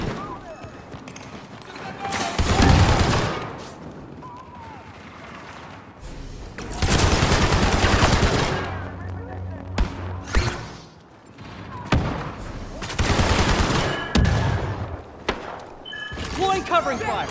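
Blaster fire crackles in bursts during a Star Wars Battlefront II multiplayer battle on Takodana, dense volleys and explosions rising and falling amid voices shouting.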